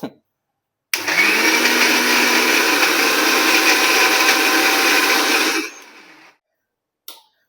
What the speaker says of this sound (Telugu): ఇంకా పచ్చిమిర్చి అండ్ అల్లం ఇవి కూడా వేసేసి కొంచెం వాటర్ పోసి మిక్సీ పట్టేస్తే